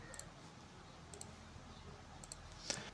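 Sharp mouse clicks on a computer running Proteus circuit software, arriving as close double-click pairs spaced roughly a second apart, crisp and near over low room noise.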